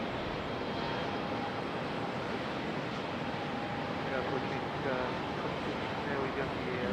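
A CRJ regional jet at Raleigh Durham airport runs its engines with a constant broadband rush and thin whining tones, moderately loud and steady, while faint voices murmur underneath.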